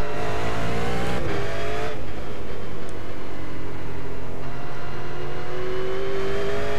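A 600 hp V8 race car in iRacing, driven flat out around Oran Park, roars continuously and loud, its engine note climbing through the revs with shifts and tire noise, with no speech.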